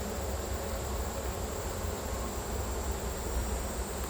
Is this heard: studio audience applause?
no